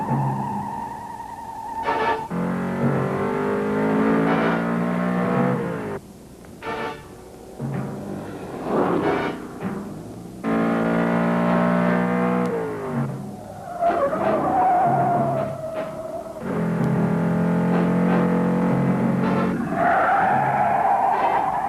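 A Dodge Challenger on a road test accelerates hard with a loud, rising engine roar, then its tires squeal and skid through repeated bursts, close and continuous for about twenty seconds with no talking.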